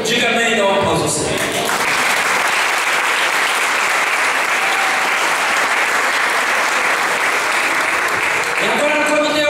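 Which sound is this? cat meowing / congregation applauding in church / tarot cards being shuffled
congregation applauding in church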